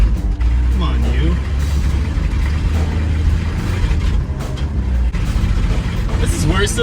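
A 1979 Ford F250, abandoned and only partly able to rev, runs with a rough, steady engine drone and intermittent throttle blips, close to the mic, while someone speaks over it.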